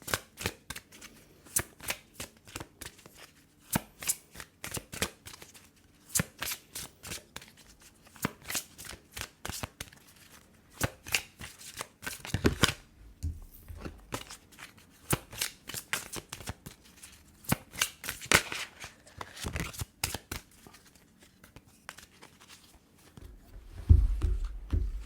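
Tarot cards being shuffled by hand for a reading: long runs of soft, rapid riffling and flicking clicks, close and fairly quiet, with short pauses between bursts and no talk.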